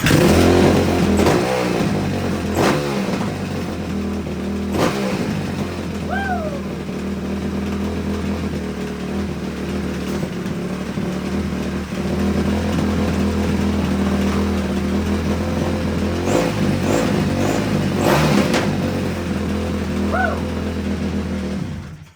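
A cheap used dirt bike with carburetor issues runs loud and close, its engine droning unevenly with several sharp revs and blips throughout, no talk over it.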